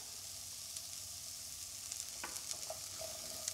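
Butternut squash with garlic and dry sage sautés in a hot pan, giving a steady, soft frying sizzle with a few faint clicks of stirring, moderately close and without voices.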